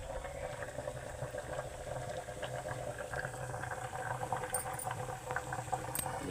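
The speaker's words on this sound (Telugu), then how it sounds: "గుడ్లు అయితే ఉడుకుతా ఉన్నాయి" Eggs boil in a pot of water, giving a continuous close bubbling and rolling simmer with no voices.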